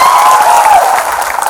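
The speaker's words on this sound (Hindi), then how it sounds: "संचालक महोदय के लिए जोरदार तालियां बजा दीजिए।" Loud, dense audience applause at a Bhil Pradesh political rally fills the whole moment as a steady roar of clapping, with a faint whistle-like tone riding over it.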